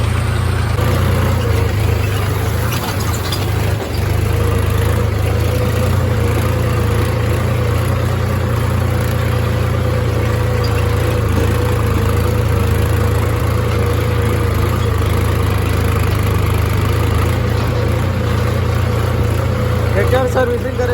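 A tractor engine idles steadily nearby with a constant low throb, and someone talks over it.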